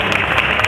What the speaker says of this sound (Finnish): Ja annetaan hänellekin suuret aplodit.